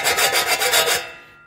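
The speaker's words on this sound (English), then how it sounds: "I've gone round and draw filed" A file is draw-filed by hand along a metal part of a handmade custom motorcycle to remove burrs, giving about seven quick, close rasping strokes that end abruptly.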